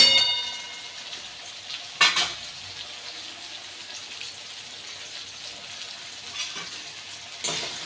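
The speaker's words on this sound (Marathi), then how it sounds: "आणि टोमॅटो याला थोडंसं 2 चम्मच ऑइलमध्ये गरम करून घेते, परतून घेते।" Onion and tomato sautéing in two spoons of oil, a soft steady sizzle broken by a sharp metallic clang of a utensil against the pan near the start and a few quieter stirring knocks.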